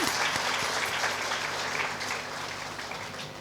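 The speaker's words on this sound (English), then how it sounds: "Can we please have a big round of applause for her?" An audience at a school annual day function applauds the chief guest, steady crowd clapping with faint tonal background, easing slightly toward the end.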